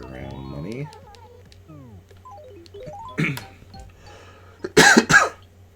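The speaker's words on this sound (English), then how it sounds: "Sorry for the coughing." A person coughs in a few harsh bursts, one short cough midway and a louder cluster near the end, over soft chiming electronic game tones from Animal Crossing.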